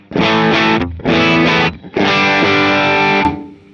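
Three bursts of electric guitar chords through a Blues Driver overdrive pedal, crunchy and sustained, separated by short gaps, loud and close.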